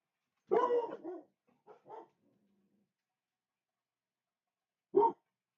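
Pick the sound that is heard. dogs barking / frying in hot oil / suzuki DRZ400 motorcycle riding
dogs barking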